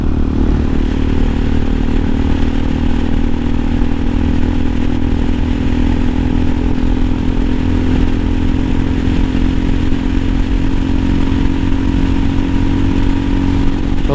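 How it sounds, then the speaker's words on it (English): A 2020 CSC TT-250 dual-sport motorcycle with aftermarket exhaust rumbles steadily at a deep, throaty idle, loud and close, with no talking. "I did put on aftermarket exhaust to make it sound a little better."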